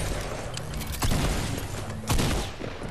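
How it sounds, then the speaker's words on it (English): Fortnite gameplay with a dense, noisy battle mix where two heavy shotgun-like blasts punch through about a second apart amid continuous background commotion. "Someone's trying to shotgun me again"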